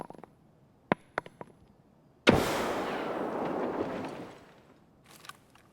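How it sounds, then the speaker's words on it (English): Grenade blast in Escape From Tarkov: a few faint distant clicks and pops, then one sharp, loud explosion that decays into a long rumbling tail over about two seconds, followed by faint scattered noises. "Throwing another nade on second."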